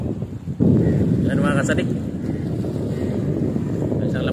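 Steady wind roars and buffets the microphone outdoors near choppy water while fishing, loud and continuous, with someone speaking briefly in Filipino over it.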